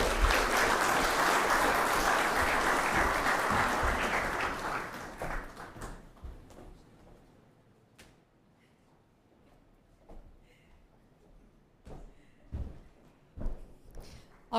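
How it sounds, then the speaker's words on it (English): Audience applause at the Caribbean Broadcasting Union's annual general assembly, a dense, loud burst of clapping for about six seconds that fades into scattered claps and light thuds. "let's get one more round of applause for Dr. Barnett"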